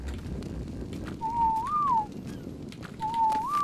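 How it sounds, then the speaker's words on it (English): Dodo calls in the video game ARK Survival Ascended: two clear whistled, cooing tones, each rising briefly at the end, over a steady low ambient rumble. "New dodo sounds are nice."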